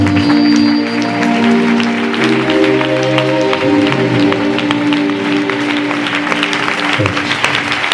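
A church congregation gives a loud, sustained round of applause at the end of a sermon, dense clapping from many hands running steadily throughout and tailing off slightly near the end.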